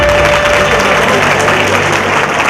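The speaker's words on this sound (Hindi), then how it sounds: "तो अपने माँ बाप के लिए एक जोरदार ताली" Audience applause at a live stage show in Bengaluru: a dense, loud, steady wash of clapping that fills the whole stretch without pause.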